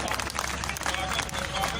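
An audience at a political rally claps in dense, continuous applause, close and sustained throughout the short stretch.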